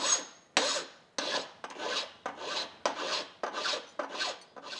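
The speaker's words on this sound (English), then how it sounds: "I'm just cleaning up the edges with a rough file to give it a" A rough file rasps in nine steady back-and-forth strokes along the edges of a freshly bandsawn bracket, close and clear with no voices.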